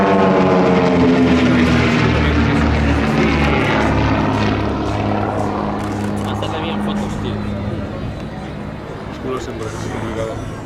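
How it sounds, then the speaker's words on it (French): Two TB30 propeller training aircraft drone loudly overhead at an air show in Biscarrosse, with a pulsing engine note that slowly fades as they fly off. "les 2 TB30 s'éloignent un petit peu, ils vont revenir."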